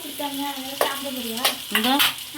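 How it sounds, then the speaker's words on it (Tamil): Raw banana slices being tossed in hot oil give close, sizzling frying sounds, with three scraping stirring strokes that ring with a squeaky, tonal edge. "வாழைக்காய் வறுவல் மூடி வச்சுட்டு அப்படியே எண்ணெயில் புரட்டி புரட்டி விட்டுறணும்"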